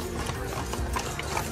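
Draft horses on Mackinac Island clopping along with a steady run of hoof strikes, close and fairly loud over a continuous mechanical rattle, with no talk.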